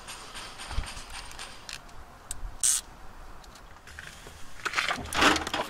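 Small clicks and creaks of a tool tightening a cheap aftermarket brake or clutch lever on a motorcycle handlebar, faint and intermittent with scattered metallic taps, no talk.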